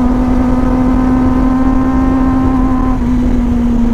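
A Kawasaki ZX25R motorcycle engine runs at a high, steady whine, with a brief dip near the end as a clutchless quick-shift upshift clicks through. It stays close and loud throughout, with no talking.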